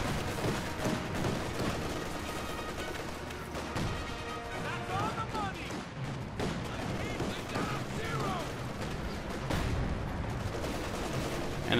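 Gunfire, explosions and crashing impacts from a Company of Heroes 2 battle, with anti-tank gun shots among dense, continuous combat noise, heard under a commentator's talk.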